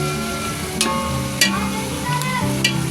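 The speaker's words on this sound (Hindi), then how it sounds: "हो रहे हैं फ्राई, ये आप फ्राई हो रहे हैं। अच्छी तरह से मैं इन्हें फ्राई कर लूँगी।" Onions fry in a pan for aloo biryani, a steady sizzle broken by several sharp spatula scrapes and clinks, close and without voices.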